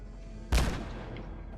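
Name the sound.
grenade explosion in video game Fallout 4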